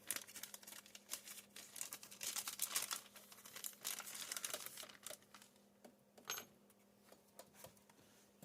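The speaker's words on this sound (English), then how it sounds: "Very carefully peeling out the transmitter." Plastic packaging crinkles and crumples as a Huina 1593 RC excavator transmitter is carefully peeled out, giving close, irregular rustling with a few sharper crackles, quieter toward the end.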